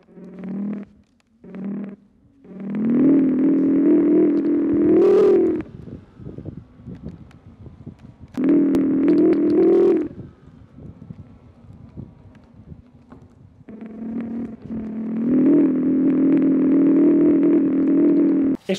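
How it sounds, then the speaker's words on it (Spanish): An Inmotion V12 electric unicycle's simulated big-motorcycle engine sound swells and revs in several bursts, like a big motorcycle accelerating, with quieter gaps and wind rustle between them. "La rueda emite un sonido de moto de gran cilindrada"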